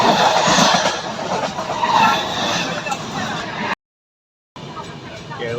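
A passenger train in India rumbles along the rails with rattling, rushing noise throughout, briefly cutting out before resuming; voices talk over the clatter.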